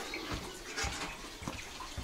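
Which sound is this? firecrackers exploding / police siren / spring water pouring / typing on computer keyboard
spring water pouring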